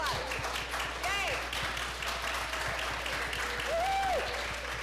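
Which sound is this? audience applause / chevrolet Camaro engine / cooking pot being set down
audience applause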